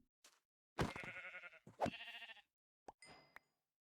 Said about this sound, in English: Where did the sheep go?